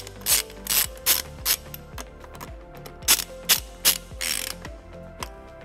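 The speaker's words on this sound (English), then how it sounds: "And then we'll tighten it using a 10 millimeter socket." Socket ratchet fitted with a 10 mm socket tightens a screw while a trailer wiring harness goes onto a 2018 Toyota RAV4, giving close, rapid bursts of clicking, about a dozen short runs in quick succession.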